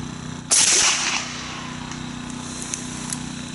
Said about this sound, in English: That's a 308 caliber gun, that quiet like it